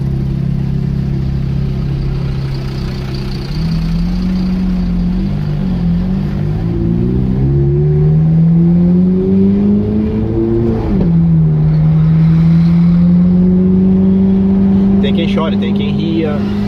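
A Ferrari sports car engine drones and climbs through revs during a ride, its pitch rising in steps before dropping back and building again, loud and steady throughout with wind and road noise.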